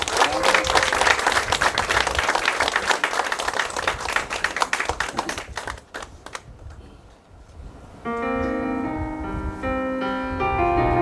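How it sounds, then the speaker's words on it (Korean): A church congregation claps loudly and densely to welcome a visiting choir of pastors at a church's dedication service, the applause fading after about six seconds, followed by a brief lull and then sustained piano or organ notes. "큰 박수로 좀 환영해 주시면 감사하겠습니다."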